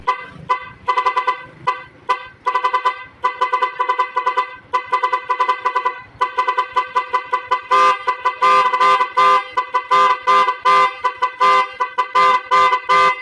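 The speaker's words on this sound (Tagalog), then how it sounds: "i-install itong Nipro music relay sa ating motor at sa ating busina para magkaroon tayo ng iba't ibang tunog ng ating busina" A loud, close motorcycle horn fitted with a music relay plays a rapid melodic tune of short beeping notes, speeding into faster bursts toward the end.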